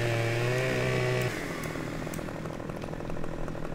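A chainsaw felling a tree in Farming Simulator 19 whines at a steady high pitch, then drops into a rougher, lower buzzing growl as it bites into the trunk, loud and close.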